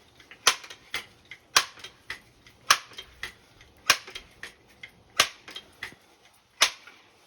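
Crosman Model 362 air rifle firing at cans, heard as a steady series of about eleven sharp, crisp cracks roughly every half second to second, each snappy and distinct, with faint ticks between and no voices.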